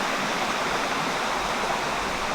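A jungle waterfall in Ghana pours steadily, giving an even, unbroken rushing hiss that holds at a constant moderate level throughout, with no voices.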